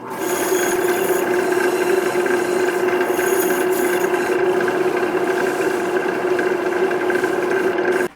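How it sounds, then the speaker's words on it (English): Wood shavings pressed against a turned hollow-form vessel spinning on a lathe give a steady, continuous rubbing hiss over the lathe's constant hum, close and unbroken for several seconds. "Now I'm going to burnish everything here with shavings."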